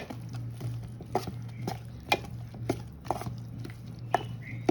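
Red chilli pickle being stirred and mixed by hand or spoon in a vessel, soft repeated wet pats and light clinks in a steady rhythm over a low continuous hum.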